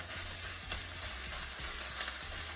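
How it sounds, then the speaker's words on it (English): Steady, close sizzling of sausage frying in a pan for biscuits and gravy, with occasional soft scraping and stirring sounds underneath as a meat chopper breaks it apart. "now we are going to cook up the sausage"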